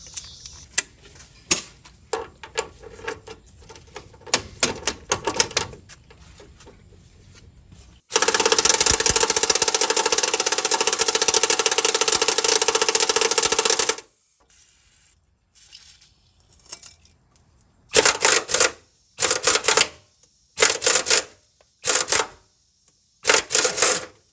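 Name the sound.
air impact wrench removing motor mount nuts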